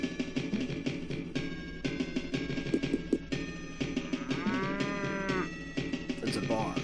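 Cows moo in a barn in the video game Tales of Phantasia, with several drawn-out moos, one long and prominent in the middle, over repeated clattering music-like tones.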